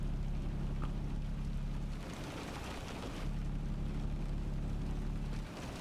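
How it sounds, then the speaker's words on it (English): Heavy rain from a realistic rain mod in the truck-driving game Euro Truck Simulator 2 hisses as a dense, steady wash with a low rumble beneath, continuous and fairly loud, with no voices. "You can get realistic rain mod, heavy rain, and normal rain"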